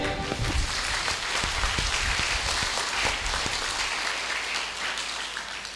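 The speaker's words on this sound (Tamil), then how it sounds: "மாதாக்கெல்லாம் சேர்ந்து ஒரு ஜோர கைத்தட்டு." An audience at a Tamil Catholic devotional gathering honouring Mother Mary breaks into loud, dense applause that holds steady throughout, filling the space with continuous clapping.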